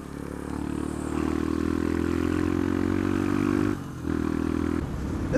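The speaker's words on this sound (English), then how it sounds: "It is quite loud for a 125, it's single cylinder and pretty much a straight through exhaust." A 125cc single-cylinder motorcycle with a nearly straight-through exhaust drones loud and steady at a constant engine speed. The sound cuts off briefly near the end, then resumes and carries on alone with no talk over it.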